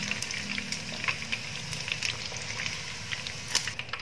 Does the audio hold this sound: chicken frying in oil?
yes